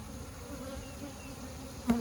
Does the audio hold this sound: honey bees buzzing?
yes